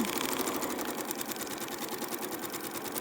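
A sewing machine stitches a foundation paper-pieced scrappy mountain quilt block, running steadily and close with a fast, even needle rhythm for the whole stretch and no talking.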